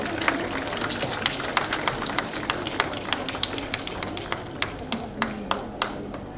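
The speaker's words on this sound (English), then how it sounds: "May we please have a huge round of applause for them." Applause from the audience at an award ceremony, moderate and fairly sparse, with distinct individual claps repeating in a loose rhythm over a soft room murmur.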